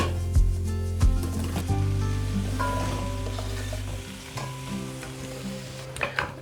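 Zucchini being stirred into a pot for Finnish zucchini soup, spoon scrapes and knocks over a bubbling, sizzling background with a low hum, close up and without speech.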